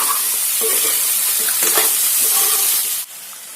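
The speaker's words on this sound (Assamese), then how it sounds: "এতিয়া 5 মিনিট মান এনে ঢাকনি নিদিয়াকৈ লৰাই থাকিলে হ'ল" Raw mango pickle being stirred in an uncovered pan, a loud, close, hissing sizzle with soft scraping strokes that drops abruptly near the end.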